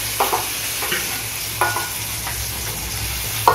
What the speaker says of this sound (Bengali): এবারে হালকা গরম তেলে আমি মশলাটা যেটা পেস্ট করে নিয়েছিলাম সেটা একটু দিয়ে দেব।